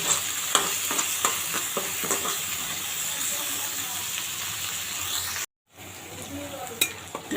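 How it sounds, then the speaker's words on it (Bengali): Raw shrimp, washed and lightly salted, sizzle loudly in a frying pan while a utensil stirs with repeated scraping clicks; the frying continues steadily, broken only by a very short gap near the end. "কাঁচা চিংড়ি মাছটা ভালোভাবে ধুয়ে হালকা লবণ দিয়ে একটু ভেজে নিচ্ছি।"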